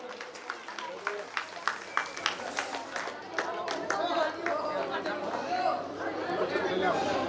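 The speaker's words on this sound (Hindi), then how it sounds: "जोरदार तालियां बजाएं।" Audience clapping at a secondary school annual function honoring a student, individual claps first then swelling into steady applause mixed with crowd chatter and voices.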